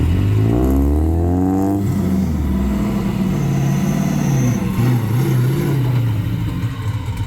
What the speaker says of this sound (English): You got a drift car rolling in.